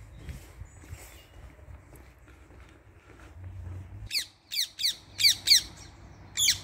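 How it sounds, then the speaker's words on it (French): Five or six sharp, shrill squawks from a rose-ringed parakeet burst out near the end in a quick, uneven series. Before them comes a stretch of faint outdoor ambience with low rumbling. "Voilà une belle perruche à collier."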